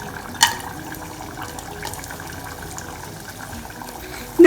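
Coconut slices sizzle in hot coconut oil in a non-stick pan for a beef curry, a steady, soft frying hiss broken by a couple of brief clicks.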